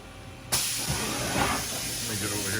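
Tool changer on a 2003 Mazak VTC 200/50 CNC vertical mill indexing, a sudden loud airy hiss and mechanical rush that starts abruptly and holds steady, with faint talk underneath.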